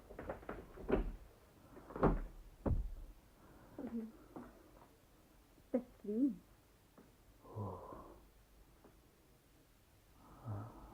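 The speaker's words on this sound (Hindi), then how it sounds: "दरवाजा खोलिए" A door is opened in a Karachi radio drama, giving a few short knocks and clicks of handling followed by softer shuffling, close and fairly quiet, with no voices.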